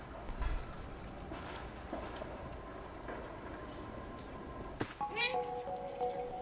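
A cat meows in the video game Stray, heard as a short, clear meow near the end over a busy game soundscape, with someone talking earlier.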